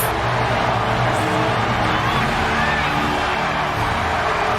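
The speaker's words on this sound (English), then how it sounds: "Listen to this pop, guys. The crowd in Burma are going crazy for Savage." Dense, steady roar of a wrestling crowd cheering for Randy Savage in a video game, loud and unbroken throughout, a wash of noise with no clear voices.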